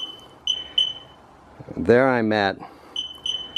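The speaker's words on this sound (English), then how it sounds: "it's about the same distance, 5 feet, it starts beeping" Rostra 250-5110 backup sensor beeping at about five feet from a 2x4 stand-in obstacle, steady short high beeps repeating at intervals, briefly interrupted by someone speaking close by.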